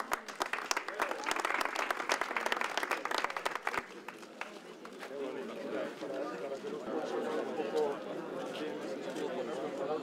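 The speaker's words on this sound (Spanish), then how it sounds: "Esto merece un aplauso." An audience applauds at the inauguration of the Toro bullring in Spain, dense clapping for a few seconds that fades into crowd chatter and talk, with birds faintly audible.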